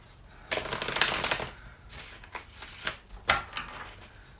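Tarot cards are shuffled in quick riffling bursts, followed by a few softer slaps and flicks, close up with no talking.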